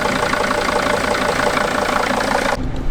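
A vehicle engine runs steadily with its alternator charging, a loud, close, even rumble that cuts off abruptly near the end.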